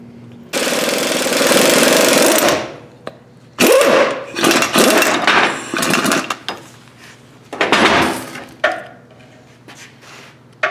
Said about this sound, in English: We're just going to shove some crusty washers in here and see if we can push that bushing out now.